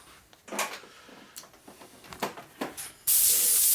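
Compressed air from an airline blowing out threads on a 1952 Harley-Davidson panhead four-speed transmission, short hissy puffs and handling clatter followed by a loud, steady blast of air at the end.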